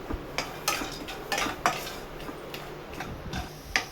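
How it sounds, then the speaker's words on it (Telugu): Cashews fried in ghee in a pan for a sweet, stirred with a spoon, giving a soft steady crackle broken by a series of sharp scraping clicks as the utensil knocks and drags against the pan. "జీడిపప్పును దోరగా వేయించి పక్కన పెట్టుకోవాలి."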